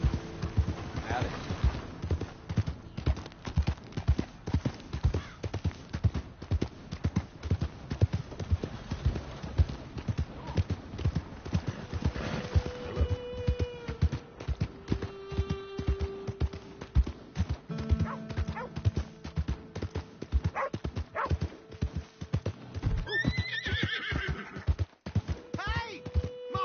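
Horse hooves clip-clop steadily in the open-world Western game Red Dead Redemption 2, mixed with game music and a dog barking nearby, while characters talk over the hoofbeats.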